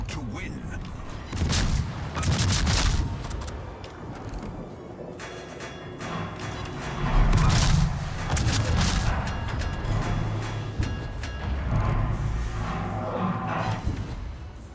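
Naval gunfire from the cruiser Belfast in World of Warships, with repeated heavy booming salvos and explosions at irregular intervals over a rumbling game soundscape, while someone talks throughout.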